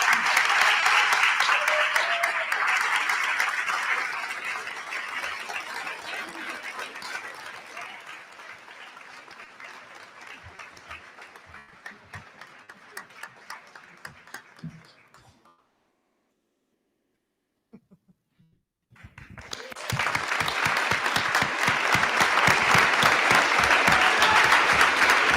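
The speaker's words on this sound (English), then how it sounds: "So let's give a round of applause to Christian Salome." Applause fills a school committee meeting honoring a Woonsocket High School wrestler: loud sustained clapping that thins out, stops for a few seconds of silence, then bursts back in full and strong.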